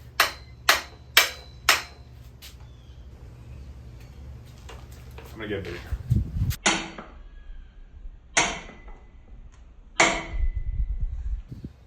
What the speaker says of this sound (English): I'll use my hammer.